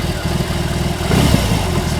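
2022 BMW R18 Transcontinental motorcycle engine revving under throttle, a steady low rumble that swells louder around the middle of the blip, close by with no talk over it.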